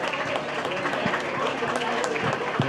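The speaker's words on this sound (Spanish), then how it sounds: "Un aplauso para los dos." Audience applause at the ACAS association awards ceremony in Asturias, Spain, for two honorees: a moderate, steady patter of clapping from a room of people, with a few louder claps and some background voices.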